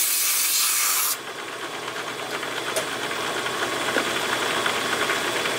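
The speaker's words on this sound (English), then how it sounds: "Well, just a little shot here milling the slot." A milling machine cuts a slot with a half-inch four-flute carbide end mill, a close, steady grinding hiss with a faint rhythmic chatter after a louder burst of coolant or air at the start.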